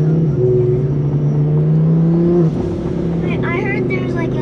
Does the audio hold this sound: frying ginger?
no